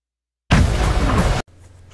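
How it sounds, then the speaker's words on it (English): A Wonder Weapon grenade launcher in the Call of Duty Cold War game fires a burst of grenades: a sudden, loud, close blast lasting about a second that cuts off abruptly into a low lingering rumble. "he fires the brand new Wonder Weapon"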